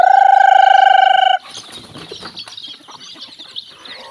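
Farm chickens make a loud, sustained squawk up close, followed by a run of scattered, softer clucks.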